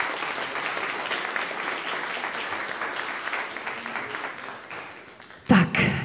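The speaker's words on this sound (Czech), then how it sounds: "Tak jim ještě jednou zatleskáme." Sustained audience clapping fills the hall at a student short-film awards ceremony, even and moderately loud, ending in a sudden louder burst near the end.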